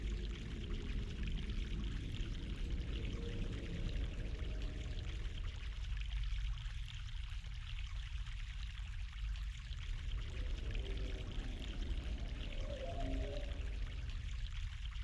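Mountain water pours and streams in an outdoor scene in the adventure game The Longest Journey, a steady, soft, continuous rushing flow with gentle shifts in tone and no voices.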